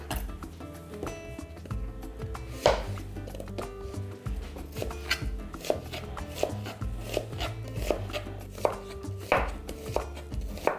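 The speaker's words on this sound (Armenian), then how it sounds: "Երկու գլուխ սոխ ենք կտրատում փետրաձև։" Two onions are cut into thin feather-shaped slices on a board, the knife striking in a steady, repeated rhythm of close, crisp chops.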